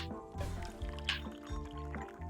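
A character gulps down sake in a video game, with brief wet liquid and dripping sounds over a steady backdrop of game music.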